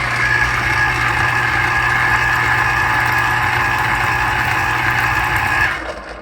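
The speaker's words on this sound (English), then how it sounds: "You can hear the motor attempting to bog down." A Homeleader electric citrus juicer's motor whirs steadily while pressing a lemon, a constant close hum with a faint strain as it bogs down under pressure, then cutting off near the end.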